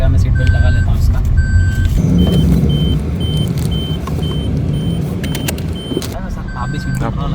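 Repeating electronic warning chimes from a Suzuki car's seat belt reminder, a steady series of evenly spaced beeps sounding close inside the cabin over engine and road hum while people talk.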